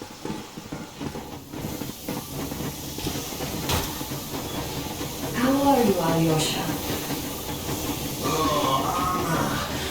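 A steam locomotive pulling away in the video game Metro Exodus, with a rising hiss of steam over a low rumbling drone, while people talk over it.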